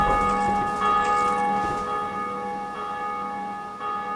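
A Bellkeeper bell from Dark Souls 2 rings out loud and near, one clear sustained metallic tone struck again partway through and left to ring and slowly fade.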